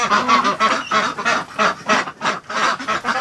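A flock of ducks quacking loudly and close, a rapid, continuous chorus of overlapping honking calls with no talking.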